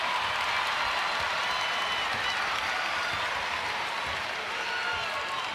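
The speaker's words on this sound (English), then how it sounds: "that last one brought this sold-out crowd to their feet" A sold-out arena crowd at a UConn versus Jackson State NCAA women's tournament basketball game applauds steadily, a dense, even wash of clapping and cheering, with a commentator's voice faintly underneath.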